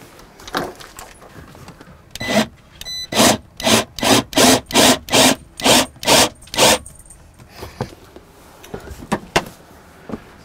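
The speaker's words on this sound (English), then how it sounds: "it's time to install the screws." A power driver runs screws in while a REMIS cab shade is installed in a Ram ProMaster van, a steady series of about a dozen loud, evenly spaced whirring bursts, close up, with softer handling noises before and after.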